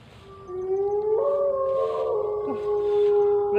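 Dog howling in a forest: one long sustained howl rises and holds steady for several seconds, fairly loud and near, alone without speech.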